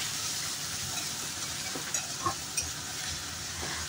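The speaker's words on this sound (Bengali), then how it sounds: "প্রথমে আলু আর গাজরটা ভালো করে ভেজে নিচ্ছি।" Potatoes and carrots frying in oil, with a steady close sizzle and hiss and a few soft clinks and scrapes of stirring, no voices.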